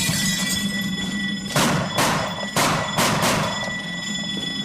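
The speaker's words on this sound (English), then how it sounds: "A bloody burglar alarm." A burglar alarm in a 1970s British police drama rings over a steady electronic tone, with several loud clanging bursts in the middle of the stretch.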